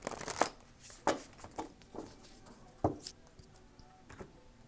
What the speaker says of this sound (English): One more shuffle, they said.